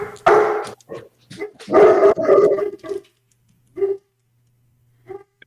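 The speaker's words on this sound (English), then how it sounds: "And there's some dogs somewhere in the city." Dogs bark somewhere across a city, heard as scattered bursts with a howling quality: a loud cluster early, a longer run in the middle, then two short isolated barks with silence between, no talking.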